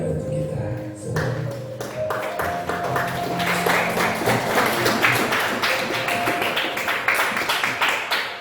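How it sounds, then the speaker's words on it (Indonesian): Audience at an education coaching session breaks into applause, a dense patter of hand claps building after a few opening taps and continuing steadily to the end, with brief voices mixed in. "Kasih tepuk tangan untuk kita semua."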